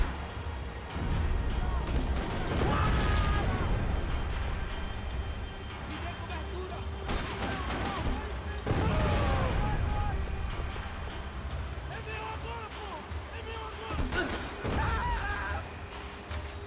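Gunfire in the video game Max Payne 3, with bursts of shots and impacts in clusters amid busy action noise, loud and close, with people talking throughout.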